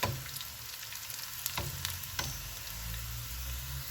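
Boondi batter frying in hot oil, a soft continuous sizzle and crackle with a few faint stirring clicks, close but quiet, no voices.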